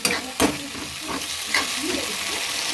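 Steady sizzling of paneer in a hot pan with scraping stirring strokes, loud and close, with no talking.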